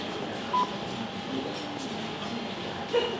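Brief touch-tone dialing beeps from a telephone calling the Swedish speaking clock, a couple of short tones sitting faintly over a quiet room background.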